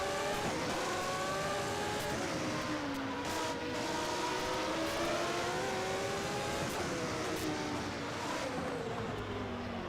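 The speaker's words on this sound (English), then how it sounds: "therefore, it sounds as if it had a wastegate" A normally aspirated Judd-engined 1991 Formula One car at the Portuguese Grand Prix, a continuous loud engine drone whose pitch swoops up and down through shifts, with a breathy wastegate-like hiss.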